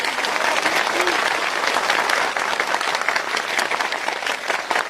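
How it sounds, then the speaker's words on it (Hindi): A large audience at a political gathering breaks into loud, sustained applause, a dense continuous roar of clapping with some crowd voices mixed in. "सब जोरदार तालियां बजाया"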